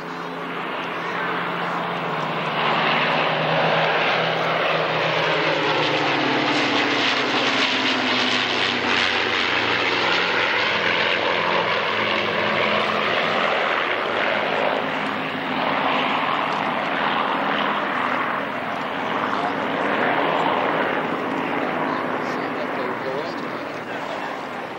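A vintage warbird aircraft makes its final low pass at an airfield airshow, its engine roar swelling and sweeping past with a steady, loud drone, while a commentator talks over it.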